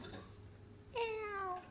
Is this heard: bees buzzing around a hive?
no